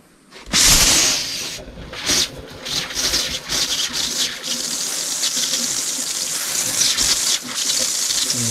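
Water spraying hard from a bathroom shower head fed by a solar-powered automatic pump, a steady hissing rush that starts abruptly and continues with some splashing and clatter.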